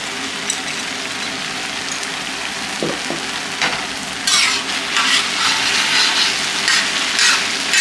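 Homemade tomato puree and yogurt sizzle and fry in a hot pan while chicken gravy cooks, a steady close crackle that swells louder partway through with occasional stirring knocks.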